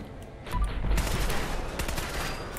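Sustained rapid gunfire from the player's weapon in Fallout 4 while fighting robots, a dense, loud burst of shots lasting a couple of seconds with no talk over it.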